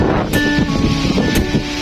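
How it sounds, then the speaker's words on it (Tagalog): Strong wind buffets the microphone in steady, rumbling gusts at a resort, with a couple of brief bright bursts of noise and no talking. "Sa lakas ng hangin, tinangay."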